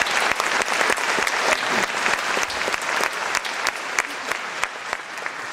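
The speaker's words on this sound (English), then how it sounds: "give yourselves a round of applause for supporting hospice." A theatre audience at a Joseph and the Amazing Technicolor Dreamcoat charity show claps loudly and continuously, with distinct sharp individual claps standing out within the dense, steady applause throughout.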